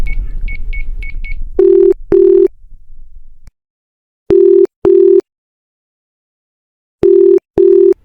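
A phone rings back three times, each a pair of steady tones with silent gaps, after a short burst of dial tones and background noise.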